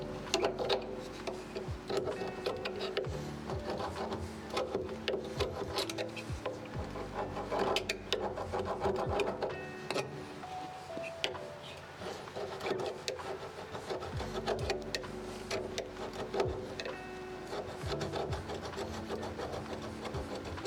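Scraping and rubbing rubber coating off a car fuel tank, a quiet, continuous rasping with repeated strokes and small knocks, fairly close and alone.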